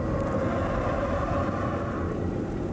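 A Nissan 300ZX and a Mazda RX-7 race side by side on a circuit, heading under the Dunlop bridge, their engines making a steady, loud, close roar that holds evenly for the whole stretch with no talking.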